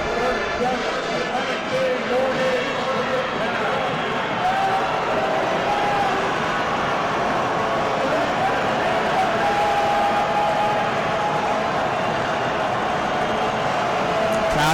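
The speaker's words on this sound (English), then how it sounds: "Crowd getting loud here." A college football stadium crowd at Old Dominion versus UTSA keeps up a loud, continuous roar that swells slightly, while a commentator talks over it throughout.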